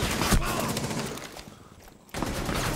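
Bursts of automatic gunfire fill a round of the video game Rainbow Six Siege, loud and dense for about a second and a half, then dropping to a brief lull before the firing resumes.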